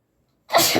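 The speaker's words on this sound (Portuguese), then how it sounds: "Ui! Ai, espirrei." A single sharp sneeze bursts out after half a second of near silence, close and fairly loud, with a short breathy tail.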